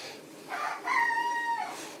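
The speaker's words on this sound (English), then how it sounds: "My rooster." A rooster crows once in a workshop during a lathe job, a fairly faint, drawn-out call with a rising then held tone, heard alone with no talk.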